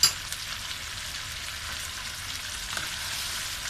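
Mutton frying with yogurt in a pan, a steady, even sizzle with soft crackling that holds at one level throughout, close by and with no talk.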